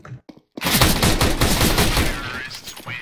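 A couple of sharp clicks, then a dense burst of rapid gunfire rattles on loudly and continuously in Counter-Strike: Global Offensive, from a Tec-9.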